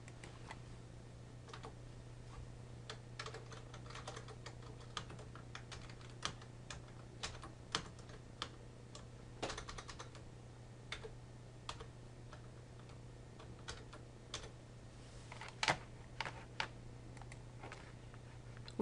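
Quiet, close clicking of keys on a computer keyboard as code statements are typed, irregular taps and short bursts over a low steady hum, with no voices.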